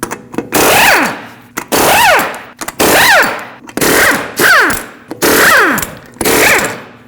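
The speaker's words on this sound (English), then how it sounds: "use a 21mm socket, remove all 6 lug nuts, and then pull the wheel off" Impact wrench spinning lug nuts off the wheel of a raised 2005-2021 Nissan Frontier with a 21mm socket, six loud rattling bursts of about a second each, separated by short pauses, close up with no talking.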